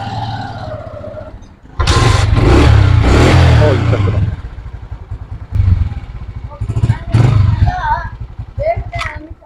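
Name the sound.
motorcycle engine started and revved after repair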